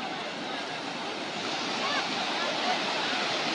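Sea waves washing in at Gangasagar beach as the tide comes up, heard as a continuous broad rush of surf, fairly loud and close, with wind noise on the microphone and no clear voices.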